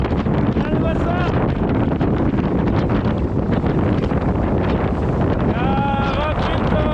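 Strong wind buffets the microphone aboard a racing sailboat on the open Atlantic during the Les Sables–Azores–Les Sables 2024 race, a loud, constant roar with voices faintly heard through it.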